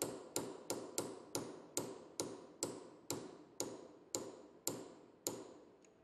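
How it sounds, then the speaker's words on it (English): A hammer taps a punch to pry a lock washer tab out of a lock nut notch while dismounting a 22216EAKD1 bearing. About thirteen sharp, close metallic strikes land in a steady rhythm roughly half a second apart, with no talk. "with a hammer and punch or equivalent tools, carefully pry the lock washer tab out of the lock nut notch."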